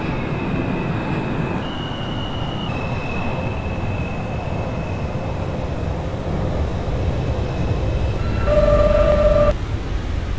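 Subway train in the OpenBVE simulator, an F local of R160 type at West 8th Street–New York Aquarium, a steady loud rumble with high whine tones that shift in pitch and a brief squeal near the end.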